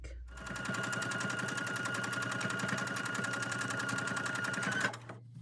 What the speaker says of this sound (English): I'm going to get my sewing machine pulled over here, and I'm going to sew around that